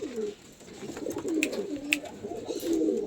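Pigeons kept for sale at a home coo in low, repeated throaty phrases at close range, with a few faint sharp clicks or chirps in between and no talking.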